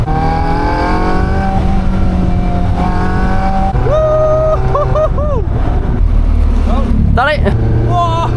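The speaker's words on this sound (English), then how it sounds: "We're gonna have a drive in the Caterham 340S, an absolute machine for the roads." A Caterham 340S sports car engine revs hard and close, climbing through rising whines, blipping on shifts and rasping through the exhaust, loud throughout, with a person's excited voice mixed in.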